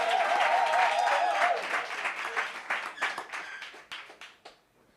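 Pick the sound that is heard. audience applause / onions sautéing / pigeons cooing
audience applause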